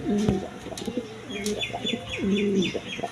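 Pigeons brooding on eggs in a loft give a run of repeated soft, rolling coos at close range, several phrases in a steady rhythm, with faint chirps and light rustling around them.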